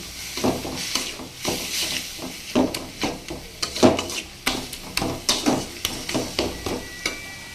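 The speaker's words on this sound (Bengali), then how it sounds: "দেখুন, শাকটাকে আমি কীভাবে নাড়ছি, এরকম করে করে এক সাইডে নেব, আবার এই সাইডে আনবো।" A spoon stirs red amaranth greens being fried in a pan with cauliflower and potato, giving a steady series of sharp scraping clacks, roughly two per second, close by with a faint sizzle beneath and no talking.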